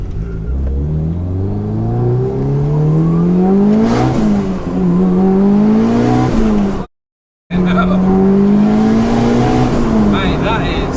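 A 694bhp Mitsubishi Evo V engine revs hard and climbs in pitch as it accelerates, loud and close, with a brief dropout of silence partway through.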